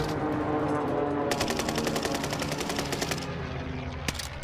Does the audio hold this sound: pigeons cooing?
no